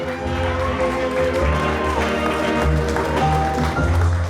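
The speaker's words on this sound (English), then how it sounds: "Big round of applause for Becky and her equally proud father," Wedding guests applauding the father-daughter dance, steady dense clapping from a crowd mixed with music, continuous and fairly loud throughout.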